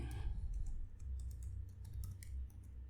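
Steady keystrokes on a computer keyboard while code is written, a fast, even patter of light clicks running for a few seconds, close and fairly quiet with no talking over it.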